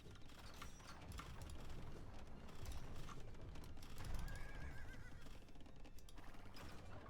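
Horses neighing in the Age of Empires II real-time strategy game during a 1v1 ladder match, a short whinny rising over dense, busy game ambience with clattering and low rumbles throughout.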